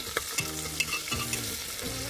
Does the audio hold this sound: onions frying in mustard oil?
yes